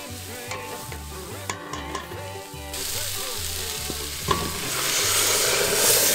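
Garlic and celery tops sizzle in a pan, first a light crackle under background music, then a louder, fuller fry toward the end.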